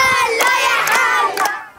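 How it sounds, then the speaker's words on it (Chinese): Children in Gaza shout and cheer together while clapping and circling in play. Loud, close voices rise and fall in overlapping calls, with a few sharp bursts and a quick fade at the end. "拍手绕圈，加萨孩子们享受难得欢乐气氛"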